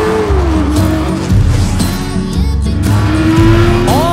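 A race car roars loudly around the track, its engine note rising and falling through gear changes with a brief tire squeal, close and continuous throughout.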